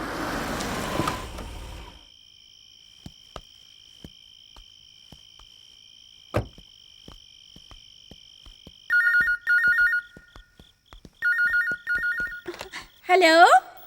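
A telephone ringing at home during a birthday celebration in a dubbed South Indian action film: several bursts of trilling electronic rings, clear and fairly loud, each separated by pauses and scattered clicks, after a brief stretch of talk at the start.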